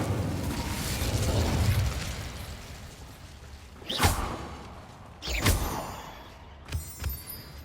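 Incendio fire spells cast in Hogwarts Legacy: three separate whooshing bursts of flame, each a sharp loud flare that fades, set over a low rumbling background.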